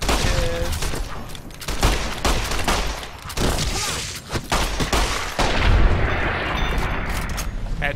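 Gunfire from the video game Fallout New Vegas: a dense run of loud, close shots and booming blasts, several sharp cracks over a rumbling battle bed, with a brief lull before the noise swells again.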